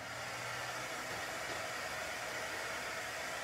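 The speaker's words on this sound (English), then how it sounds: "let me dry it" A hair dryer dries watercolor Chalk Couture paste on a stencilled craft piece, a steady close whooshing roar that runs unbroken throughout.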